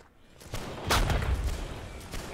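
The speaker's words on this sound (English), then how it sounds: "They're manning the cannons again." Cannon fire in Holdfast: Nations At War on a battlefield: a booming blast with rolling low rumble, preceded and followed by scattered distant gunshots and muffled battle noise.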